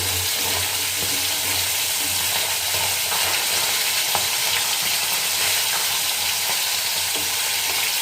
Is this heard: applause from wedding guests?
no